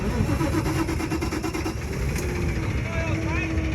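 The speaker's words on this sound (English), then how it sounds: "turn on my engine" A heavy vehicle's engine cranks and catches after the key is turned, settling into a loud, steady mid-pitched idle with rhythmic pulsing close by.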